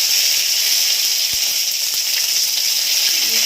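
Garlic added to hot oil for ghugni sizzles in a steady, close, bright hiss, with one brief tap partway through and no talk.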